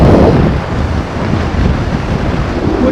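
A BMW R nineT motorcycle on a Sunday morning ride, heavy wind buffeting the microphone in a loud, steady roar that swells and eases slightly as the bike pushes on after an easy overtake.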